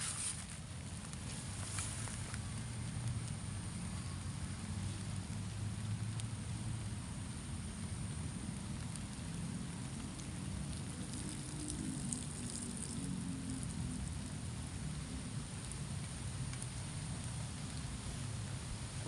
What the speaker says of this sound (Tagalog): ambon na tol, yung ambon